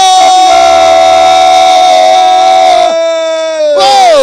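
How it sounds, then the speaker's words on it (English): Loud crowd roaring and cheering at a marathon finish as the winner, an Ismail Atta of Ghana Armed Forces, is hailed; a sustained dense roar with a tonal horn-like drone, briefly dipping then swelling again near the end. "with the handsome reward and applause, let's make some noise!"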